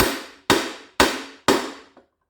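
Four evenly spaced, ringing hammer blows strike the flywheel of a Lawnboy 8237 mower, each a sharp metallic impact with a short decaying ring, close and loud, followed by a faint small tap.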